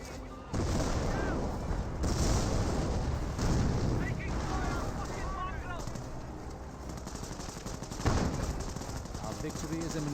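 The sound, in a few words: Hotchkiss firing in Company of Heroes video game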